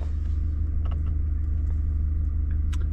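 A VW Golf VIII R engine in drift mode holds a steady, deep rumbling drone from inside the car, loud and even throughout with no voices over it.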